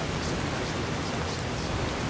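Heavy rain in Fallout: New Vegas, a steady, loud, unbroken hiss of downpour with no pauses or voices.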